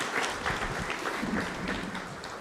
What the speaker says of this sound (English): Please let's all give a big round of applause of them.